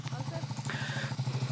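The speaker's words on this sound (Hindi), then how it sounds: "अभी थोड़ा सा इंजन गर्म कर रहे हैं।" A Triumph Scrambler 400XC motorcycle engine idling while warming up, a steady low throbbing pulse with faint clatter, heard close, with a voice speaking over it.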